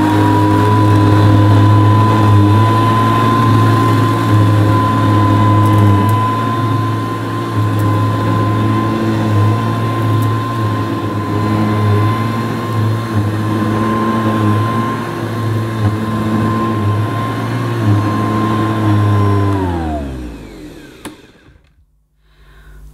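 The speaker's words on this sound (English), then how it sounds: "That's quite a nice sounding vacuum cleaner." A Hoover Guardsman commercial bagless upright vacuum cleaner runs loud and close with a steady droning whine and motor hum for about twenty seconds, then powers down as the pitch falls away into quiet.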